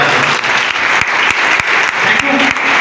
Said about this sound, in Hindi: मैं एक बार संजीव सर का नाम लेकर ताली बजाता हूं।